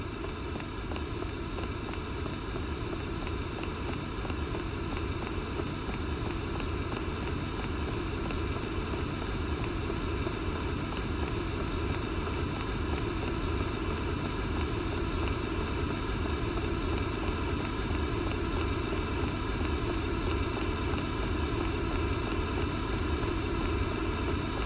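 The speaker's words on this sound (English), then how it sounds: "It's just listening to the sound of water pouring out of this dam." Water pours out of a dam in the video game Fragile Dreams, a constant, even, hissing rush like broadband white noise that holds at a steady level from start to finish, with no voices.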